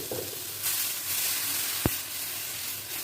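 Adai, a spiced lentil batter with coriander and curry leaves, sizzles on a hot pan in a continuous close hiss that swells slightly, broken by one sharp tap partway through, with no voices.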